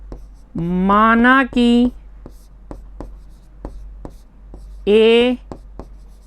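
Chalk or marker scratches across a classroom board in short, sharp strokes between a teacher's spoken phrases, a series of quick taps and scrapes near the microphone.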